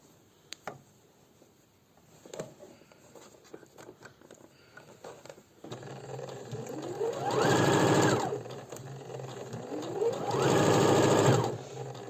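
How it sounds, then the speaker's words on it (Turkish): A sewing machine stitches the underarm side seam of a shirt sleeve in two loud, steady whirring runs of a few seconds each, with faint clicks and handling noises before them. "Şimdi dikmeye başlıyorum arkadaşlar."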